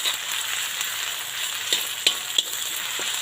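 Ingredients frying in hot oil in a pan give a steady, close hiss, broken by a few sharp crackles and light taps toward the end, with no talking.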